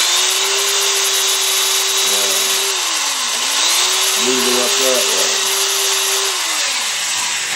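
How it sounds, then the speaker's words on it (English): A drill fitted with a sanding pad works a punky wood blank, its motor whine holding steady, dipping and rising again as the pad moves across the surface, while someone talks over it. "sanding pad on a drill and"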